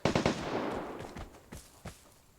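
Several kinds of guns go off at a distance in the multiplayer game Vigor: a quick cluster of sharp cracks at the start, then a few scattered single shots with echoing tails, moderately faint.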